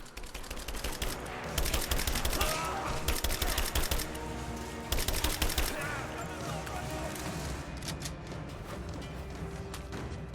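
Rifle fire crackles in the video game Rise of the Tomb Raider, rapid bursts of automatic shots in several clusters followed by a few isolated reports, loud and close over game ambience.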